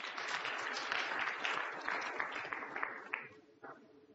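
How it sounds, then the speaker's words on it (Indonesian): A church congregation applauds together during a sermon, a dense sustained clapping that thins and fades toward the end, with a few last claps standing out. "Tepuk tangan buat Tuhan."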